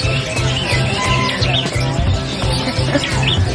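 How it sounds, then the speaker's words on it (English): Many small birds chirp and tweet continuously at a bird market in Yogyakarta, Indonesia, where colorful parrot-like birds are sold; a busy, dense chorus of high calls sits over a low rhythmic background hum, fairly loud and close. "Oh, take a look at these birds. They're so pretty."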